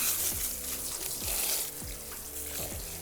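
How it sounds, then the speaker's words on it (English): Steady water runs in a shower while hair is rinsed, a continuous close hiss with soft splashing and faint rhythmic knocks underneath. "And then we're gonna rinse."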